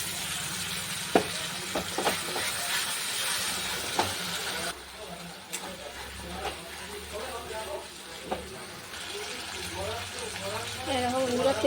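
Spices and fried onions sizzle in hot oil for a chicken curry, a steady hiss with occasional stirring knocks and scrapes, and a faint voice in the background.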